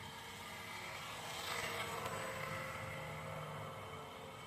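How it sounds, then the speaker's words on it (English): Small propeller motor on a tiny 14 liter RC blimp at about a third throttle, giving a steady whirring drone that swells slightly mid-way, alone and fairly close. "This is about a third throttle and it really moves along nicely."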